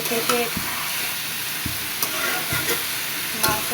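Meat sizzles steadily in a hot pan, loud and close, while a spoon scrapes through it in several short stirring strokes.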